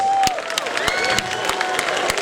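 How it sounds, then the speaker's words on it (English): A large crowd at a gala night applauds with scattered sharp claps over a busy murmur of voices, and a few louder close hand claps stand out. "so please give them a round of applause."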